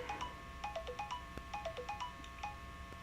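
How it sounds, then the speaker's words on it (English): A mobile phone ringtone plays a repeating melodic pattern of bright electronic notes, faint and steady, with no talk over it. "Oh, my phone is ringing."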